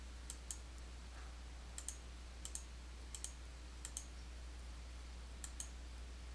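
Mouse clicks while working in QuickBooks Desktop, heard as crisp double clicks spaced evenly about a second apart over a steady low hum, close and fairly quiet with no voices.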